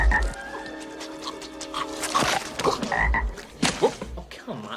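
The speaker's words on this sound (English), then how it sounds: "So he tries another spell to give him a frog in his throat" Several cartoon frogs croak in repeated bursts, close and fairly loud, over a busy animated soundtrack with occasional squeaky effects.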